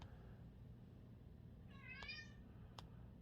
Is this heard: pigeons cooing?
no